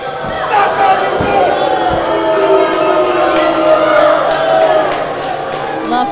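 Crowd cheering and shouting at a live professional wrestling show, a dense, steady roar of voices with whoops and some rhythmic clapping or stomping near the end.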